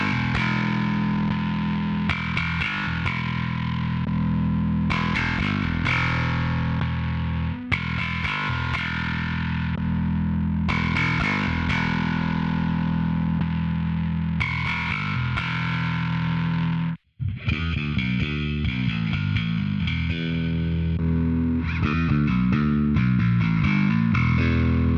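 A bass runs through a Neural DSP Quad Cortex Mini with no cabinet simulation, giving a buzzy, distorted tone as a run of sustained notes and riffs, with one abrupt cut midway before a more rapid passage.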